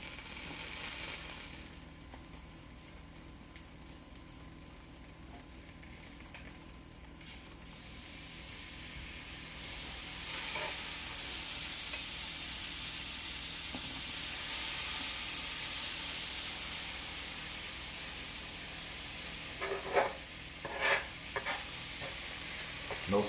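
A gameday sandwich frying in butter in a pan, a steady soft sizzle and hiss that carries on throughout, with a few faint scrapes and taps near the end.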